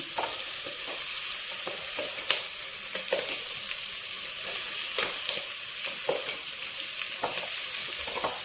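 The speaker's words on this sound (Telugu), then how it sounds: "ఇలా నూనెలో మగ్గినవి కూరగాయలు వేసి చేసుకుంటారు సాంబార్" Ash gourd, radish and other vegetables sauté in oil for sambar, a steady close sizzle punctuated by irregular clinks and scrapes of a spoon stirring the pan, no talking.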